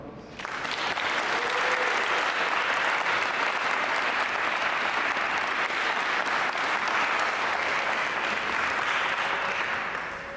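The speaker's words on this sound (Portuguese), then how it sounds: "Uma salva de palmas." Wedding guests applaud at the close of a church ceremony, a dense, even roar of many hands clapping that rises quickly and holds steady for about ten seconds, filling the hall.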